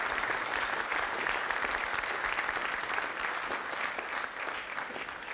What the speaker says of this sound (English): So please give them all a big round of applause as they come onto stage.